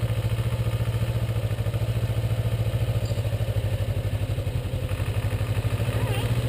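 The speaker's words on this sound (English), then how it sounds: "So you start to hear the RPMs kind of die out a little bit." A Ninja motorcycle engine idles close by in a steady, throbbing low chug, its rapid pulses holding a fairly even pace with a slight sag in revs.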